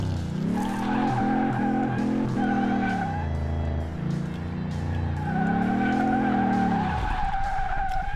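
A Lamborghini Countach LP5000 fishtails in Car Mechanic Simulator 2018, its tires letting out a loud, sustained squeal over the engine drone. The squeal wavers and bends in pitch, then cuts off sharply near the end.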